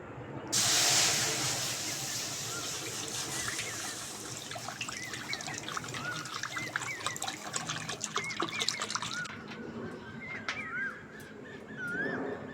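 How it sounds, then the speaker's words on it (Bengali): Water pours into a pan set on a lit stove, giving a steady trickling, hissing splash. It begins at close range and carries on for several seconds, then eases to a lighter dribble. "উনুন ধরিয়ে কড়া বসিয়ে দিয়েছি কড়ার মধ্যে জল দিয়ে দেবো"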